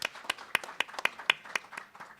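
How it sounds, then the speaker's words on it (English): Sparse clapping at a League of Women Voters candidate forum, a handful of distinct, fairly quiet hand claps spaced irregularly rather than a full ovation. "I want a big round of applause,"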